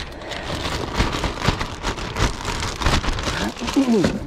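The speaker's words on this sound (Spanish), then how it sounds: "Y nos cayó la lluvia, men." Steady rain falls outdoors during river trout fishing, a dense, even patter with louder splashes throughout, and a brief whistling tone near the end.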